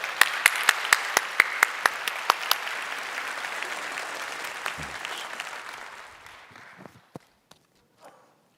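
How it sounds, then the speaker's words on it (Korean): A church congregation applauds to welcome a speaker to the front, dense sustained clapping with a few sharp individual claps standing out, fading away toward the end into near silence and a few stray claps. "우리 박수로 맞이해 주시기 바랍니다."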